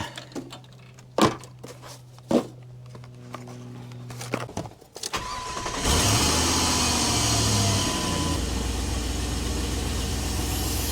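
A Jeep 4.7L engine cranks to life after a few ticking clicks and short bursts, then settles into a steady, smooth idle that holds evenly to the end.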